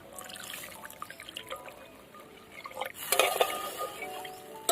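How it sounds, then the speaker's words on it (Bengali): Water poured into fried masala in a cooking pan for an egg-based mustard curry, giving a soft trickling, sizzling pour that swells near the end, fairly faint with light utensil clatter and no talk. "এবার আমি জল দিয়ে দেব।"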